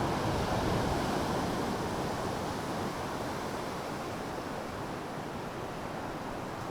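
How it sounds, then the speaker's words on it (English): Wind blows steadily over a hill by the tidal shore, a constant broadband rushing that buffets the microphone and fades only slightly over several seconds. "Wind is still coming around from over the hill there"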